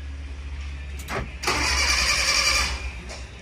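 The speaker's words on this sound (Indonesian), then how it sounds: "sekarang kita coba starter" A car's starter cranks the engine with a whirring grind against a low hum, then the engine catches and roars for about a second before easing off, loud and close.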